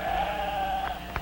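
A sheep bleats in a steady, wavering call lasting over a second, close by, with no talking.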